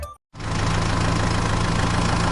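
Engine of a cartoon tractor pulling a trolley, a steady loud idling rumble with a knocking low beat that starts after a brief silent gap and runs continuously.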